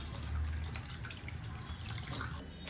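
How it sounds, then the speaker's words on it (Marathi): Raw chicken is rinsed under a running kitchen tap, a faint, steady trickle and splash of water that continues without pause and sounds fairly close. "हे चिकन आता धुवून घेते"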